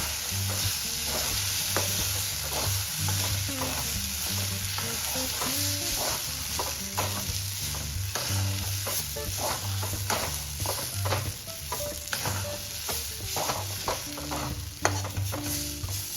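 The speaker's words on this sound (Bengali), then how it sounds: "এরপর তার মধ্যে কড়াইশুঁটি পেস্টটা দিয়ে দেবো, দিয়ে ভালো করে তাকে নেড়ে এখন ভাজা ভাজা করতে হবে" Green pea paste stirred and fried in a kadai for koraishutir kochuri, continuous loud sizzling with rhythmic scraping strokes of a spatula against the pan, no talking.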